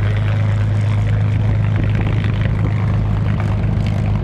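A loud, continuous engine roar from an Avro Vulcan jet bomber flying a display at the Shoreham Airshow, a steady heavy drone with a low hum throughout.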